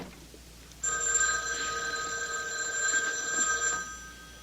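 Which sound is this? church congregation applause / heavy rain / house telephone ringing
house telephone ringing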